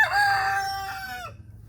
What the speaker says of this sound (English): Those are big chickens.